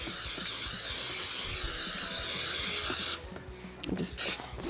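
PAM cooking spray hisses steadily into a glass baking dish for about three seconds, close and loud, then cuts off, followed by faint handling noises.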